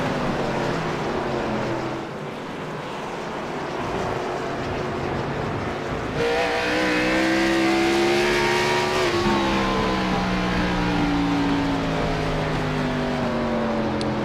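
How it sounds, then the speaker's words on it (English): In an Xfinity Series racing video game, a race car exhaust drones loudly and steadily. The engine pitch climbs as it revs higher through the gears, with no talking. "Hear that exhaust going crazy."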